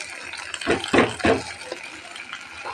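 A fried garlic, onion and chili tempering is poured from a pan into cooking pumpkin greens with dal, giving three quick, close sizzling splashes in a row before settling into a quieter simmer.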